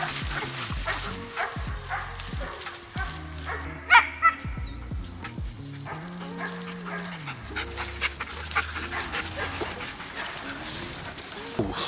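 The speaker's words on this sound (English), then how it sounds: "let's go ahead and get Luna and the pups over here to the paddock" Several dogs, a mother dog and her pups in a rural paddock, give yips, short barks and whimpers with bursts of panting, fairly close and continuing throughout.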